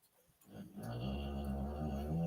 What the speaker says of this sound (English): can you hear my dog? My dog snoring.